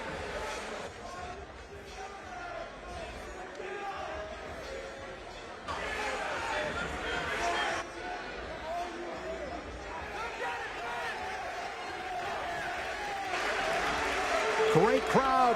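A lively crowd cheering and applauding at a high school wrestling dual meet between Delbarton and Blair Academy, steady indoor roar that swells toward the end, with a commentator talking over it.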